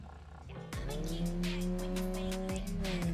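A Golf GTI driving fast in the video game Drive Beyond Horizons, its engine droning loudly and steadily with shifting pitch and brief tire noise, under faint background sounds.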